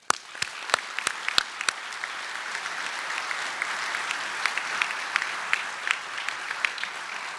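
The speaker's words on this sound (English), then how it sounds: "Let's give them a big hand." An audience at a scout awards dinner applauds warmly, a dense steady wash of clapping with a few sharp individual claps standing out at the start, sustained throughout.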